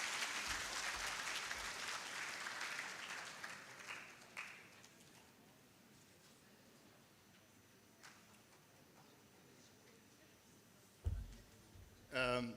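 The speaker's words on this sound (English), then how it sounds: "I will not leave this stage until you clap for me. So thank you, and you can clap." Audience applause at an HIV service delivery summit, moderately loud at first, then fading over several seconds into quiet room noise with a few scattered thumps and clicks.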